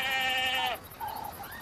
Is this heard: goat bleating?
yes